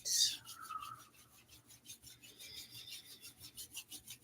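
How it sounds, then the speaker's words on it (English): Palms rub together vigorously in quick back-and-forth strokes, a soft rhythmic swishing that speeds into a steady pulse, close and quiet with nothing else around it. "Rubbing the palms together, starting to feel a heat."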